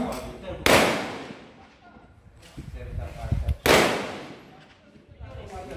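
Two loud, close rifle shots from a Pindad SS2-V5 A1, spaced about three seconds apart, each a sharp crack with a long decaying echo, with people talking between them.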